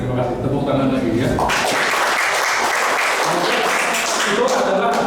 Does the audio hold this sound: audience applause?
yes